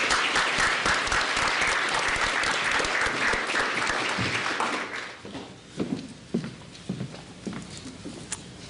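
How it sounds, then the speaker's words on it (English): Symposium audience applauds the coordinators, sponsors and panelists, full clapping for about five seconds, then thinning to a few scattered, isolated claps. "join me in thanking all of the coordinators, sponsors, and panelists with a round of applause"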